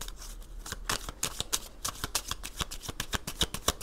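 Tarot cards are shuffled by hand in quick riffling bursts, a crisp papery flutter of rapid slaps repeating close up with no talk.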